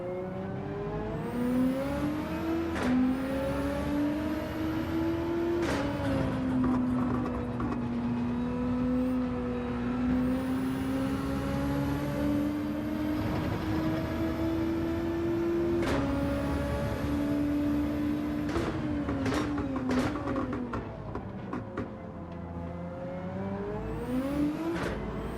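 Race car engine in Gran Turismo 7 on a gentle out lap: a steady, loud droning note that rises and falls with throttle, broken by several sharp gear changes, heard alone without speech.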